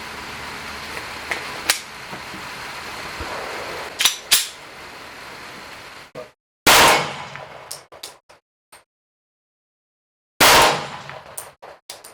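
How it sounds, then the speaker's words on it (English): Shell Shock two-piece case ammunition fired in a handful of sharp, loud gunshots, single reports and short bursts separated by pauses and silence, with no one talking. "Shooting a shockwave ammo here. I want to see if she runs."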